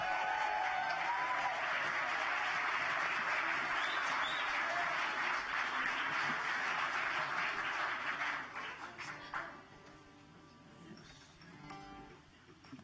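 Applause from a concert-hall audience at a music awards ceremony, a loud dense wash of clapping for about eight seconds before thinning and fading into scattered claps near the end.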